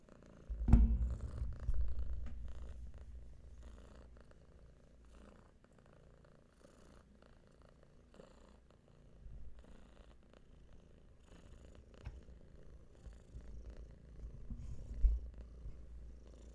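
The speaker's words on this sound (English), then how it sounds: "Lots of purring." Two cats on a lap purring with soft, low rumbles throughout, close by and steady, with a couple of brief thumps and rustles.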